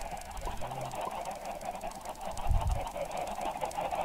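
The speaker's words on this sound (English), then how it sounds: "Look at all these chickens" Chickens cluck in Minecraft, a few short, close, honking fowl calls repeating over a faint steady background.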